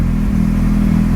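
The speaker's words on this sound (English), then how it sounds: "Oh, a little rough idle." A Mazda RX-7 rotary engine at a rough idle with a suspected exhaust leak, a close, steady low rumble with a slightly uneven, lumpy pulse throughout.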